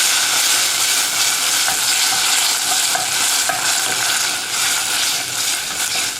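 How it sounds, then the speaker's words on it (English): Red pepper chutney is stirred in a pan over the heat. A loud, continuous hiss of sizzling carries light rhythmic scrapes and taps of the spoon throughout, with no talking. "Let's stir it all in."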